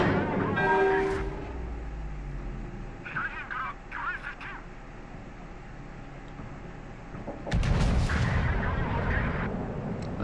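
Kongo battleship main guns firing in World of Warships naval combat, with a heavy booming salvo early and another loud burst of gunfire near the end, under low continuous engine and sea rumble.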